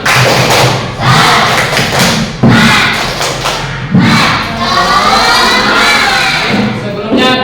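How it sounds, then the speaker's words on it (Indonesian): A school class does a rhythmic spirit clap, loud patterned bursts of clapping and thumping separated by short pauses, with children's voices chanting and shouting along. "Yuk kita tepuk semangat dulu ya"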